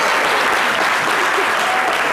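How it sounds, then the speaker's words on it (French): A studio audience at a women's comedy show claps loudly and continuously in a dense, even burst of applause. "Applaudissez."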